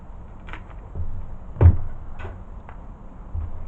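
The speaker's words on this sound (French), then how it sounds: "On va essayer d'ouvrir la porte." An old door in a ruined building being forced open: scattered creaks and knocks, one sharper thud or scrape in the middle, with faint rattles around it, close by and fairly quiet, no voices.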